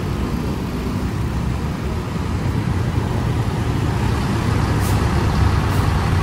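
Bus maneuvering on a road as it turns and pulls into a parking spot, a steady loud engine rumble and road noise running throughout with no distinct breaks, close by.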